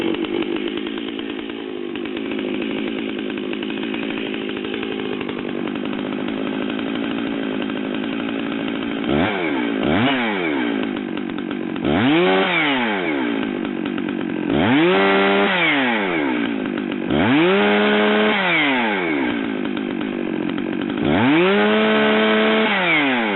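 Stihl chainsaws, MS 440, 462 and 660, running loud and close: a steady idle drone that breaks into repeated revving bursts, each climbing to a scream and dropping back.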